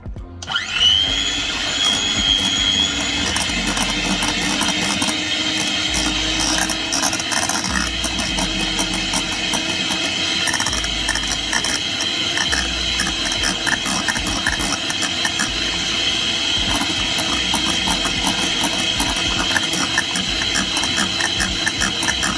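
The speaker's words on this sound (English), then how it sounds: "And again, you're going to whisk it." An electric whisk beats eggs into a Biscoff milk cake batter in a home kitchen, a steady close motor whir with a slight high hiss that runs unbroken for the whole stretch, with no talking.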